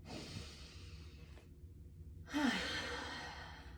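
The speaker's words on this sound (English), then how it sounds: "Deep breath in." A deep breath drawn in during a calm tapping exercise, with a soft breathy exhale early on, a short quiet gap, then a fuller audible inhale that swells and holds near the microphone, with no talking.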